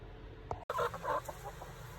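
Soft, close clucking from chickens, a few short murmuring calls after a brief thump, over a low background hum.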